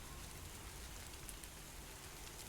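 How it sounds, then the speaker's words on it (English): Rain falling outdoors as a faint, steady hiss of drops pattering on surfaces, soft and even throughout with no voices. "it's raining"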